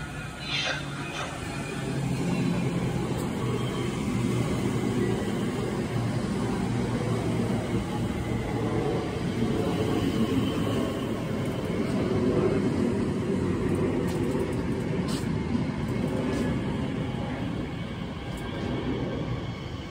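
A train passes through Taplow station as a loud, steady rumble and roar that fills the whole stretch, swelling slightly and holding near and constant throughout.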